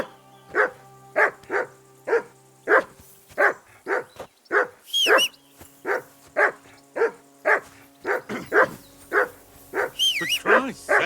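Steady, rapid barking from a dog in the medieval game Kingdom Come: Deliverance 2, close and loud, with some whining yelps mixed in toward the middle and end.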